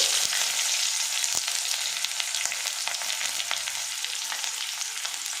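Chopped onion pieces hit hot oil already tempered with cumin and a dried red chili for a beans dish, giving a steady, loud, close sizzle with fine crackling throughout and no talk.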